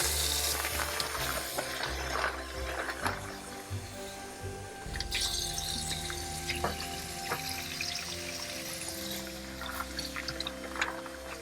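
Glass beads being rinsed under a running tap, a steady close rush of water with occasional clicks and rattles of beads shifting, continuous and fairly soft throughout.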